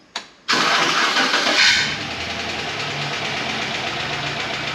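A 2006 Chevy Express 2500 van, just given an oil change, oil stabilizer and engine flush, cranks briefly and then catches and roars up loudly before settling into a steady, even idle.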